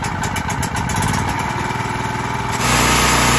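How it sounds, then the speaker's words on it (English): A Champion 3000 watt generator fitted with a new carburetor fires up with the choke pulled and settles into a steady running drone, its engine note thickening and growing louder near the end, with no talking. "So let's fire it up and see if we can get at least a run better"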